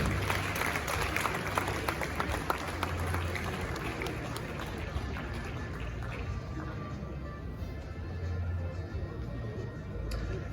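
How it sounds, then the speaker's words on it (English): Continuing applause at a Ghanaian media awards ceremony for the Acting Chief Justice, a long, steady patter of crowd clapping at moderate level that carries on for around ten seconds without clear speech. "Can we keep the applause going, ladies and gentlemen?"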